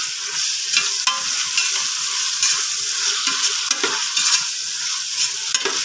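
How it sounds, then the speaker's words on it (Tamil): Chopped onion and tomato sauté in hot oil for mutton biryani, a steady close sizzle broken by repeated scraping stirs of a spoon against the pan, with no talking. "இது நல்லா வதங்கட்டும் கொஞ்சம்."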